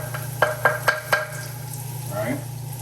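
Chopped garlic hits a hot pan for curry pork and beans, giving a soft steady sizzle under a low hum, broken by four sharp clinks of a utensil and a brief scrape.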